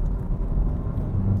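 A diesel Dacia Logan spinning its wheels as it pulls away from a standstill, heard as a loud, steady low engine rumble and road roar throughout, with no talking.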